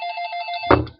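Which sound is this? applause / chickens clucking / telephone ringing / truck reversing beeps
telephone ringing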